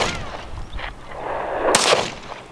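Shots from a newly bought gun fired at an outdoor range, a couple of sharp bursts with the loudest crack near the end, against an open, noisy backdrop.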